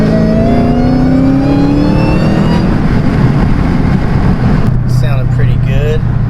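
Hellcat Challenger or Charger V8 with Dynomax mufflers and a mid pipe delete revs up loudly, pitch climbing for a few seconds then dropping back to a deep, throaty idle.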